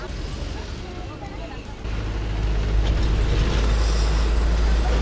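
A crowded bus from Kakdwip rolls along toward Namkhana, its deep engine rumble steady and growing heavier partway through, with passengers' voices and chatter mixed into the drone.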